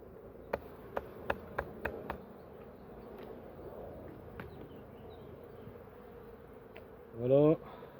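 A faint, steady honeybee buzz hums in the background from a very weak hive colony, broken by a quick series of sharp taps early on and a brief voice near the end.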